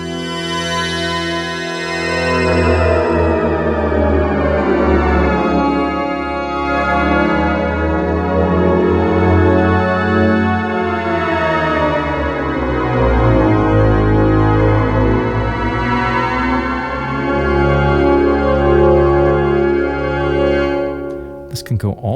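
A rich synthesizer preset tone sustains for about twenty seconds, its pitch gliding smoothly between notes with dense harmonics, ending with a brief click.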